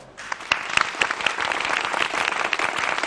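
A studio audience applauds during the final of the Azerbaijani family quiz show Alem Ailem, with a few sharp individual claps opening before the clapping swells into a full, sustained round.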